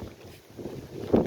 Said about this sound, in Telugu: విపచ్చంగా వస్తుంది మా సైడ్ గాలి